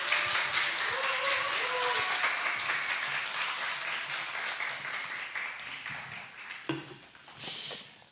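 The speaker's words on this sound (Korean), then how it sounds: "우리 이재희 목사님 올라오실 때 큰 박수로 환영해 주시면 감사하겠습니다." A congregation in a church applauds in a steady wash of clapping that slowly fades, followed by a few scattered knocks and brief noises near the end.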